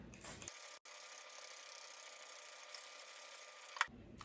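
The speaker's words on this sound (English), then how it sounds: "I'm going to spray the seeds with water." A steady hiss of water spray from a bottle misting microgreen seeds in a tray, held for about three seconds with a faint click at the end, fairly close and alone.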